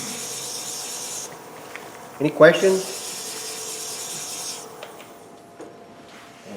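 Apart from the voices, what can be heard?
sanding a turned pen with polishing paper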